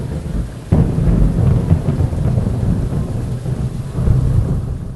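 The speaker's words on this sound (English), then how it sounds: "The house rumbled with the crack of thunder." A crack of thunder bursts out and rumbles on through a house during a storm, a loud sudden onset followed by a long low rolling roar with a wash of rain behind it.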